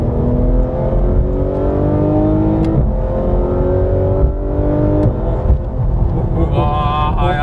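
A 991-generation Porsche 911 GT3 RS accelerating hard, its engine note rising steadily through gears with brief shift dips, loud and close from inside the car, with a little speech.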